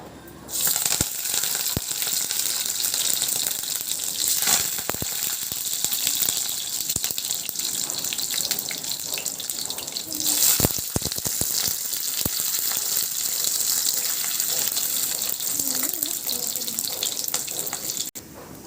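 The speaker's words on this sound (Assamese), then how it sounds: "তেল গৰম হোৱাৰ পাছত আমি গেছটো কমাই এই বস্তুখিনি দি ল'ম" Ingredients go into hot oil in a pan over lowered gas heat, setting off a loud, steady, close sizzle and crackle with scattered sharp pops and spatters, unbroken for the whole stretch.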